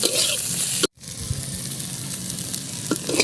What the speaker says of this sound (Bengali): বেগুনটা আমি সুন্দর করে লাল লাল করে ভেজে নেব, যাতে বেগুনটা প্রায় সেদ্ধ হয়ে যায় সেরকম ভাবে ভেজে নেব।